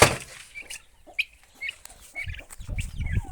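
A farmyard turkey calls in short, scratchy gobbles and clucks, close and fairly loud, with quieter rustling and low farm noise between the cries.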